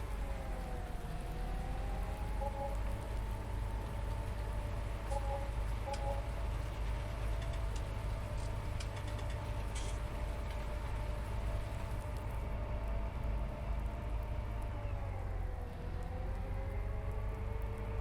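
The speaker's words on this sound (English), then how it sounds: "No, more rain coming." Steady rainfall in the Farming Simulator 19 farming game, a continuous even wash of rain with a low engine-like hum underneath, no speech.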